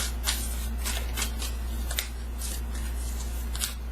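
Tarot cards are shuffled and drawn by hand, giving a run of close, crisp flicks and snaps spaced irregularly over a low steady background hum, with no voice.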